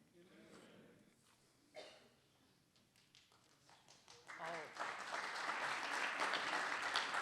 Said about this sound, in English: You're sure getting a lot of applause here.